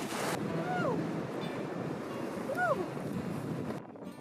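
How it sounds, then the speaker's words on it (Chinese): Sea waves surge and wash against rocks on a windy island shore, a steady rushing roar with wind buffeting the microphone, while birdlike chirps rise briefly twice. "在海边看海浪拍打岩石也是挺刺激的"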